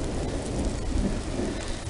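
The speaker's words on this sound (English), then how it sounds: "Dang rain." Heavy rain pours steadily in the woods, with thunder rumbling underneath in a loud, unbroken wash of noise.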